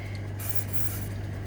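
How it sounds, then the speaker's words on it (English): Lanox lubricant is sprayed from an aerosol can onto a cloth during baitcaster reel maintenance: one short, bright hiss over a steady low background hum. "onto the cloth, not spraying directly onto the reel half the time"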